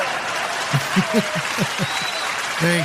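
Steady applause fills the background on a podcast reviewing the Loki episode "Lamentis", running under a speaking voice with a few louder swells before trailing off.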